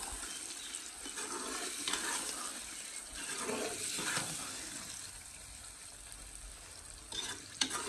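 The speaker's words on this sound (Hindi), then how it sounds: "तो यहाँ पे हमने अपना गोश्त जो है वो डाल दिया है, अब इसको अच्छी तरह से मिक्स कर लेंगे।" Meat for achar gosht is stirred in a cooking pot over a village fire in Punjab, Pakistan: close, continuous sizzling and frying with irregular scraping strokes as the pieces are turned.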